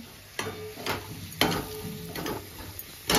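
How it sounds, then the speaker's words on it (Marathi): Chicken and masala sautéed in a pan: repeated scraping stirring strokes of a utensil against metal over a soft continuous sizzle, close up and without talk. "मस्त परतून घ्यायचे"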